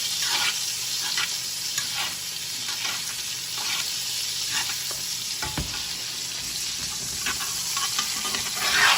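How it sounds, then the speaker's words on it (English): Steaks searing in a hot pan while being basted with melted butter, a dense, loud, continuous sizzle with occasional brief scrapes and spatters, steady and close with no talking. "Keep basting those steaks for probably a few seconds."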